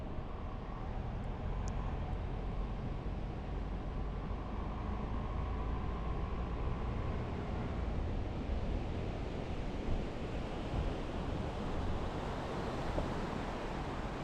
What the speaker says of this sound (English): There's that clear creek.